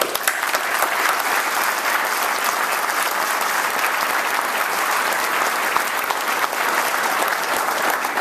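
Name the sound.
audience applause for town employees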